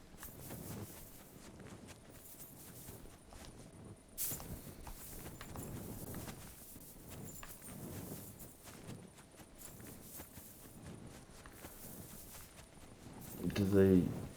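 Horse hooves clip-clop steadily in Kingdom Come Deliverance 2 as stolen horses are ridden, a moderate walking rhythm under game ambience, with a louder burst near the end.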